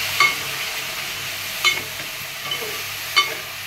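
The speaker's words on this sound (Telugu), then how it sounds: "మనం వేసుకున్నప్పుడు బాగా కలపాలి, లేదంటే షుగర్ కదా గట్టిగా అయిపోతుంది" Wheat semolina halwa being stirred in a pan, giving three or four soft scraping strokes spaced about a second and a half apart over a low sizzling background.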